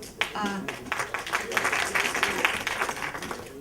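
An audience at a leadership summit claps in a dense, steady patter of applause that fills the whole moment.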